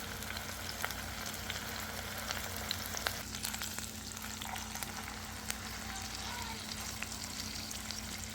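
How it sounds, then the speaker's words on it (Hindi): Galouti kebabs made with raw papaya fry on a slow flame, giving a soft, steady sizzle with faint crackles and occasional light pops, quiet and close, with no talk. "स्लो फ्लेम पे अच्छी तरीके से ये दोनों साइड से फ्राई हो जाएंगे और जूसी से कबाब बनकर रेडी हो जाएंगे"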